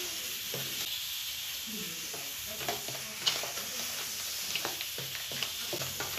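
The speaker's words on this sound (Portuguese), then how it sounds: "Eu vou colocar aos poucos aqui e vou mexer aqui" Crushed cookies being stirred into melted butter in a bowl, soft scraping and mixing strokes with a few light clinks of the utensil, steady and close, no talking.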